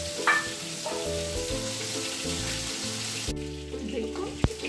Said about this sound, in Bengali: দেখুন করলাটা হয়ে গেছে, এবার লাল লাল ভাজা হয়ে গেছে